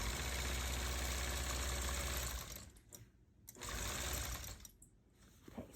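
A longarm quilting machine stitches a disappearing nine-patch quilt with a loud, steady mechanical hum close by. It stops briefly, runs again for a moment, then pauses once more.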